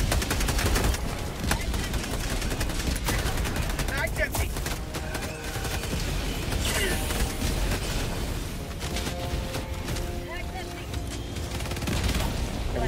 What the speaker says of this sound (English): There's an inbound artillery strike.